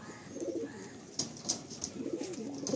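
Lakka pigeons coo in a loft, low rolling calls coming in two soft bursts with faint clicks and rustles between, fairly quiet and close.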